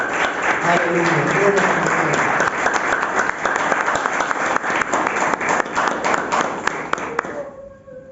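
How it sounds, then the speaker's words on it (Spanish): A church congregation applauds during a sermon on prayer: loud, dense clapping for about seven seconds, thinning into scattered claps before stopping abruptly, with a voice calling out briefly. "Denle un aplauso al Padre."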